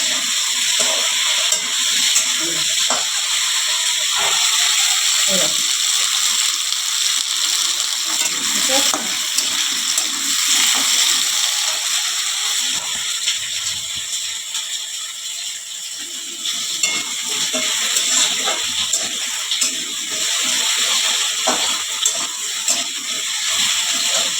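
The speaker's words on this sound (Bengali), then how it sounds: "এই যে কুচি কটা ছেড়ে দেবো, ভেজে নেবো হালকা।" Chopped pieces fry lightly in a pan with a loud, continuous sizzle, broken by scraping and clattering stirring sounds throughout, with occasional quiet voices.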